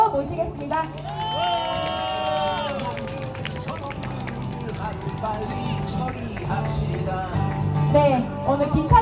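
An outdoor candlelight rally crowd in a fountain square claps and cheers to welcome singers, with broad applause under babble and a voice speaking over it.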